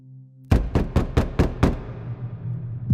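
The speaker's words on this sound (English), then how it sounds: "I woke up abruptly when someone knocked on the door of my apartment." Six quick sharp knocks on an apartment door, loud and close, evenly spaced in a rapid burst with a short resonant tail, after a faint low hum.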